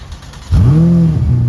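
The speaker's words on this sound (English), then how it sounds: "this button is to start the engine" A 2024 Ferrari F8 Tributo's non-hybrid V8 fires up after a quiet moment, catching with a loud, sudden bark and then holding a strong, rising rev for about a second, close and alone.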